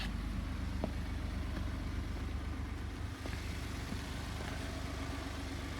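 A 2012 Ford F150 STX Supercab 4X4 pickup idles steadily with a low, even rumble, close by and constant with no voices.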